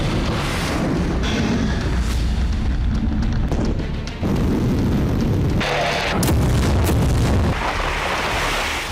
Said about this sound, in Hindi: सुमी में रूसी सेना एक हफ्ते से इसी तरह भीषण विस्फोट कर रही है